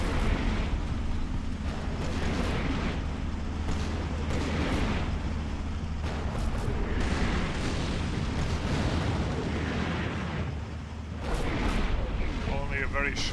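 Dense 82mm mortar barrage in the Combat Mission war game, Poland 1945 countryside near a bridge: continuous rumbling booms and bursts layered over each other, loud and sustained throughout with no pauses.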